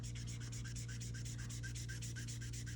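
Steady, even rubbing strokes on cotton poplin fabric, smoothing out colouring in a quick, regular back-and-forth rhythm, close and fairly quiet with no talk.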